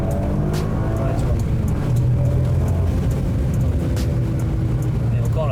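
A Toyota GR Yaris three-cylinder engine revs from inside the car, a rising and falling drone under steady road noise, with a person talking over it.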